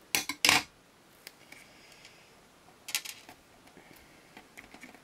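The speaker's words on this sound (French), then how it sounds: "J'ai lâché les ciseaux." Scissors dropped on a craft table during card making with vellum give a couple of sharp metallic clatters at the start, followed by softer scattered taps and handling noises, fairly faint.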